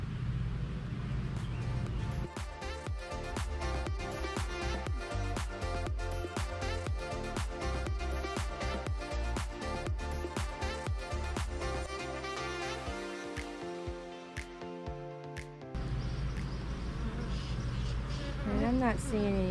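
A honeybee colony in a swarmy mood drones during a hive inspection, with dense, continuous, close buzzing and a few individual bees passing near, while a person speaks briefly.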